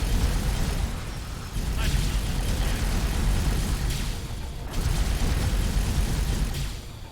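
Gunfire from ships in the space combat game X4 rolls on as a dense, continuous stream of muffled booms and bursts over a heavy low roar, with a couple of brief dips before it picks up again.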